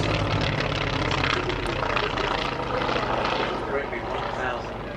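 Polikarpov I-16 fighter, a short, stubby Soviet monoplane with tiny rounded wings and a radial engine, flying at the Duxford Flying Legends air show; a loud, steady propeller-engine drone fills the whole stretch while a voice talks over it.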